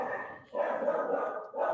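A dog barks indoors: a run of muffled, moderately loud bow-wow barks with brief dips between them, heard over a faint background of live football coverage.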